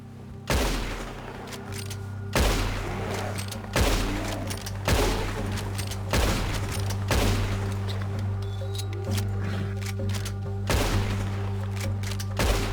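Rapid gunfire from the video game Red Dead Redemption 2 comes as loud repeated bursts of shots with booming thuds, spaced roughly every second or two across the stretch, with no talk over it.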